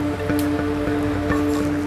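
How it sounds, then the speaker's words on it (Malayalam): Mustard seeds pop and crackle in hot oil alongside dry red chillies during a Kerala-style tempering, giving small scattered sizzling clicks over a steady low hum. "കടുക് പൊട്ടുന്നുണ്ട്, നന്നായിട്ട് പൊട്ടുന്നുണ്ട്."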